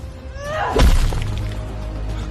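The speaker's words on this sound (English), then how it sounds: "Crack. The sound of bone shattering rang clear in the night air." A rock slammed onto a wolf's head at night with a bone-shattering crack: one sharp, heavy impact comes after a brief rising whoosh, then a low rumbling tail, with no talking.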